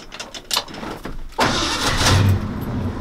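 A Ford F350 truck engine started with the choke pulled: cranking, then it catches and settles into a loud, close, rough idle, with no talking.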